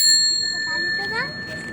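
A bicycle bell dings with a bright sustained ring that slowly fades, near and clear, with some faint background noise.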